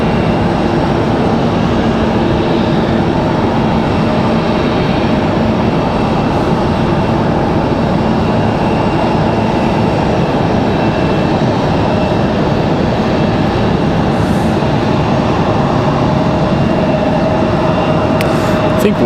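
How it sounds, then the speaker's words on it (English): A FedEx heavy cargo jet arriving at Raleigh-Durham International, heard as a steady, loud, broadband roar that holds nearly unchanged throughout, with a faint rising tone emerging toward the end. "We've got our last heavy arrival of the evening with FedEx here."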